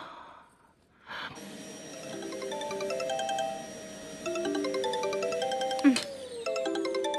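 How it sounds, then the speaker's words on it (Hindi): A phone rings with an electronic melodic ringtone, a steady run of bright, repeating tones rising after a brief quiet start with a breath, moderately loud and close, with no talking. "काम के ही बीच में हमेशा फोन आता है।"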